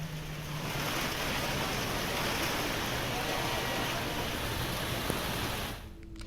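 Steady rain falls in Mussoorie, a dense even hiss of drops on surfaces lasting throughout before fading slightly at the end.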